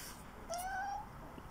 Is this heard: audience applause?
no